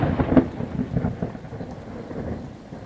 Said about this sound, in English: The rain in the background, does anything set a better mood?